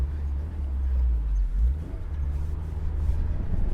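Honda S2000 sports car engine idling and running close by, a deep low rumble that swells and settles in uneven pulses, briefly, with no talk.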